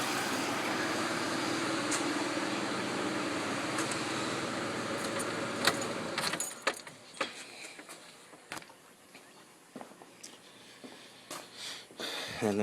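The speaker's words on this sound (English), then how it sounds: "Alright, so we'll shut the car off." A 2007 Grand Prix's engine runs steadily and then cuts off about halfway, leaving a quieter stretch with scattered clicks and small metallic rattles like keys being handled.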